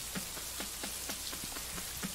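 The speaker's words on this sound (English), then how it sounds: "Tana's a very rainy place." Steady rain falls in the video game Boundless, a dense, even hiss with scattered individual drop taps, heard alone without voices.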